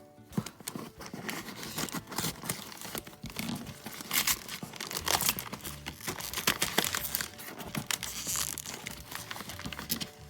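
Cardboard packaging stuck down with tape being torn open by hand, a steady run of ripping and crinkling lasting throughout, close and fairly loud.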